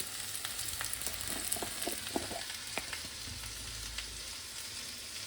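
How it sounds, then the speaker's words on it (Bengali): Prawns rubbed with salt and turmeric sizzle steadily in a hot pan of oil, a continuous crackling fry with small pops and spatters throughout, close up and with no voices. "একটু নুন আর একটু হলুদ দিয়ে মেখে আমি এর সঙ্গে চিংড়িটা ভেজে নেবো"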